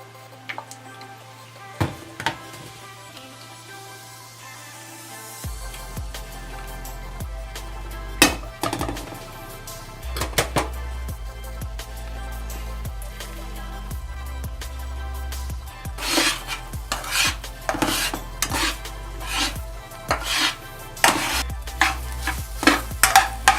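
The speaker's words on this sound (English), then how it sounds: "oil up your pan again and make some scrambled eggs" Eggs scrambled in an oiled pan, a soft sizzle under repeated scraping and stirring clicks from a utensil against the pan, growing busier toward the end.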